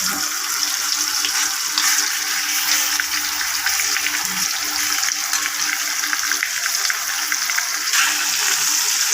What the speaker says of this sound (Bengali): এখন বাজি করার জন্য কাতলা মাছ দিচ্ছি